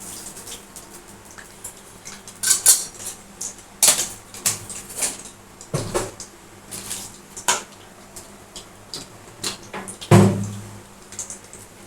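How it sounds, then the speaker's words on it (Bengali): Whole cumin seeds dropped into hot oil in a kadai give off a series of sharp crackles and pops, with a few louder bursts and some metallic clinks of utensils against the pan. "কড়ার মধ্যে দিয়ে দেবো আমি কিছুটা গোটা জিরে"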